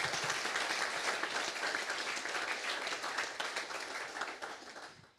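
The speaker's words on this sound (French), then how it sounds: "Je vous propose d'applaudir tout le monde." Audience at a workshop on synthetic fuel production applauding the speakers, with steady, fairly faint clapping that holds evenly for a few seconds before cutting off.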